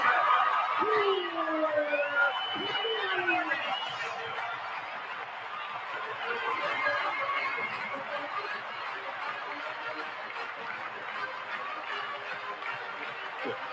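Sellout stadium crowd roaring steadily as the Notre Dame football team takes the field against Boston College, a loud sustained wash of cheering with whoops and shouts that fades slightly after the first few seconds.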